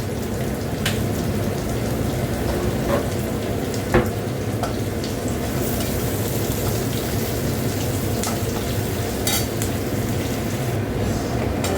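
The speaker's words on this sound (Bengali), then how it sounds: "পেঁয়াজটা একটু ভাজা হয়ে গেছে" Onion frying in hot oil with black cumin and mustard seeds gives a dense, steady sizzle that stays loud and even, with occasional light clicks and pops.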